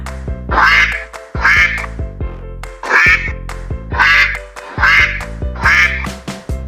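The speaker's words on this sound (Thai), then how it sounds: "เป็นเสียงเป็ด" A duck quacks loudly in six clear bursts, evenly spaced, close by with no other sounds around.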